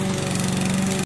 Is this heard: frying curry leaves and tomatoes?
no